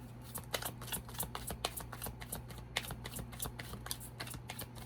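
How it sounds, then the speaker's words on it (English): Tarot cards being shuffled and drawn during a Gemini love reading: a steady run of crisp, close riffling clicks and flicks over a low hum, with no talking. "Get three cards to clarify this for Gemini."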